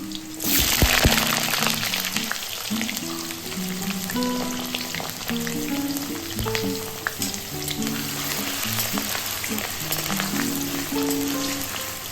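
Dried red chillies, cardamom, cinnamon, cumin and bay leaf sizzle steadily in hot oil in a home kitchen, with a loud, continuous frying hiss and scattered clinks of stirring throughout.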